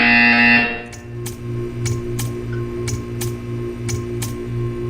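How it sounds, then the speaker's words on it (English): A short buzzing tone from the video game Portal 2 sounds at the start, then a series of sharp, evenly spaced ticks over a steady low electronic hum. "You will hear a buzzer."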